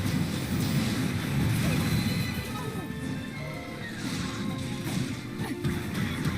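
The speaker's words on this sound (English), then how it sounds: "Weak point smash." Weak point smash attack in the video game Hyrule Warriors: Age of Calamity, a dense, loud run of crashing, whacking impact hits with a steady, busy roar of battle noise throughout.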